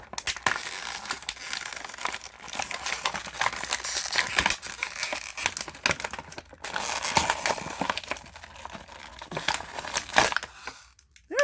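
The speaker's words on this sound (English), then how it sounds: "That figure did not want to leave its packaging." Plastic blister packaging crackles and crinkles as a Samus action figure from the World of Nintendo line is pulled free, a steady close-up stream of crushing and crumpling with a few sharper tears, no talking.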